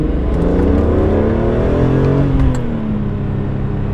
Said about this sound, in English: Let's see if I can accelerate hard into third.